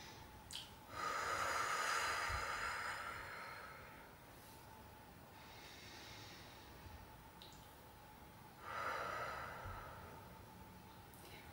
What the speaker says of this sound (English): Deep inhale and deep exhale.